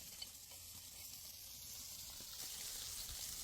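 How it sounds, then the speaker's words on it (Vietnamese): Fish fries in butter in a pan over a nomadic family's cooking fire in Iran, giving a steady close sizzle and crackle that runs throughout with no talking. "Chẳng bao lâu sau, con cá trong chảo đã được chiên vàng rụm."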